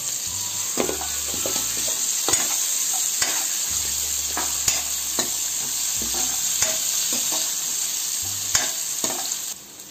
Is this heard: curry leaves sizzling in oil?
yes